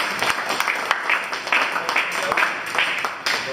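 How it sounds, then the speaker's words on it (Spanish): A class in a general chemistry lecture gives a loud, steady round of applause, dense overlapping claps sustained for a few seconds without pause. "un fuerte aplauso para todos ustedes."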